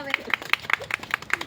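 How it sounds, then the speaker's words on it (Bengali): Audience clapping at a Saraswati Puja candle competition, a quick even run of single handclaps close by, with voices talking underneath. "উৎসাহিত করবেন হাততালি দিয়ে।"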